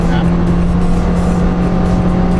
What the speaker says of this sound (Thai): มาทดสอบกันเดียวครับกับอีโคคาร์นะครับ ว่าช่วงเร่งแซงเนี่ยจะเป็นยังไงบ้างครับ เครื่องพันสองนะครับ